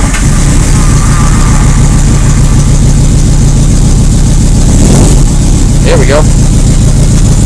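A 1980 Yamaha XS1100 motorcycle engine, already warmed up, runs at a steady loud idle with a low throbbing rumble, while someone speaks briefly over it near the end.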